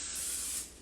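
Pam cooking spray hissing onto a baking pan in one short, steady, close burst that tapers off at the end.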